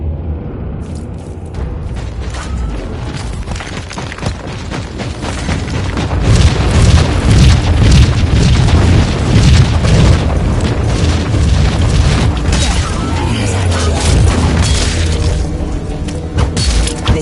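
Heavy booming grenade blasts and battle noise in a PS4 video game roar continuously and loudly, building to a dense, sustained rumble midway with no pauses between impacts.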